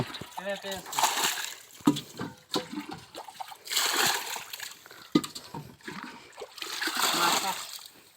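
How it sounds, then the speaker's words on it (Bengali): Water is scooped and tossed out of a fishing boat in repeated splashes, each pour a rushing burst, with brief knocks and a voice talking between them. "নৌকাতে অনেক পানি আছে এখনও সেই পানিগুলো সেচে ফালানো হইতেছে"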